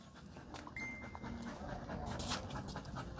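A Doberman dog panting close by, soft rapid breaths in a steady rhythm under faint background noise in a quiet outdoor setting.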